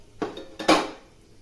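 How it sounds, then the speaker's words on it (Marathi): Whole garam masala spices drop into ghee in a pressure cooker, giving two or three quick metallic clinks and taps against the pot, close and clear with no talking. "कुकर ठेवलेला आहे बघा, तूप टाकले। आता हे गरम मसाले टाकते।"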